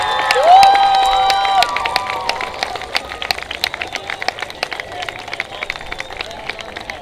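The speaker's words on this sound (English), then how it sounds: "give them a great big round of applause for helping them get you from kindergarten to now" A graduating high school class of 2019 and its crowd clap and cheer at a graduation ceremony, a dense burst of applause with shouts and whistles that slowly thins out over several seconds.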